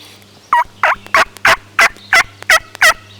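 A hunter's voice imitates a turkey gobble, giving eight evenly spaced, loud, close gobbling bursts in a steady rhythm against a quiet background hum.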